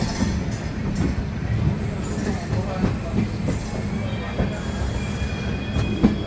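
An Amrit Bharat Express pulls into the platform at Villupuram, a continuous heavy rumble of rolling wagons with thin metallic wheel squeals drifting above, close and steady throughout.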